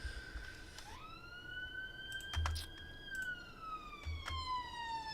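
A wailing emergency siren rises and falls steadily in the background over about five seconds, fairly faint and distant, with a few scattered keyboard clicks and taps nearer by.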